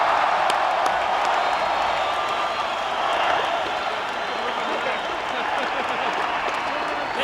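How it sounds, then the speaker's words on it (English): A large crowd applauds and cheers for retiring All Blacks player Justin Marshall, sustained dense clapping with scattered whoops, loud and even throughout. "let's have a big cheer for Justin Marshall"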